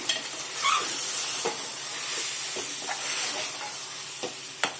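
Chicken fry being stirred in oil in a pan with coriander added, a steady sizzle under intermittent scraping and clacking strokes, with no voices.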